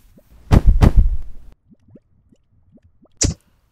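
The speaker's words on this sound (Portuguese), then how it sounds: "Como vês, a lava começa imediatamente a borbulhar." A homemade lava volcano experiment produces soft wet bubbling and squishy plops, a dense burst of gurgles followed by sparse small pops and one sharp final blip, close and quiet.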